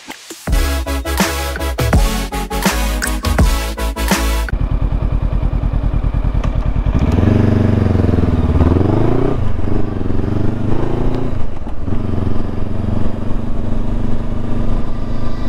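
A Honda CB500X motorcycle revs hard nearby, then settles into a steady riding drone with rising and falling engine pitch as it pulls away and shifts, loud and continuous without speech.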